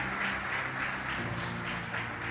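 Church congregation clapping together after a call to praise God, a steady dense wash of applause filling the room, moderately loud, with no talk over it.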